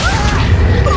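A Confringo spell blast in Hogwarts Legacy, a loud, heavy boom with crashing impact filling a single second of sound.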